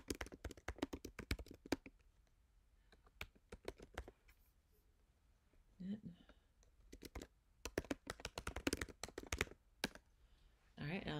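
Rapid clicking of keys being typed on a computer keyboard, in quick bursts separated by pauses, fairly quiet and close, with brief soft voice sounds in between.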